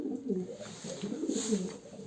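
Soft, low cooing of racing homing pigeons repeats in a steady rolling rhythm, close by, over a faint background hiss.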